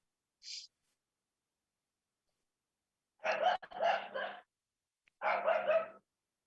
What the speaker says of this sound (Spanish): Se enojó el perro.